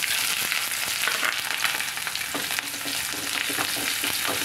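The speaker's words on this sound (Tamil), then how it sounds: "நல்லா பொரியுது" Mustard seeds splutter in hot sesame oil with onion, a dense close crackle of rapid pops and sizzling that runs continuously at steady strength, no voices.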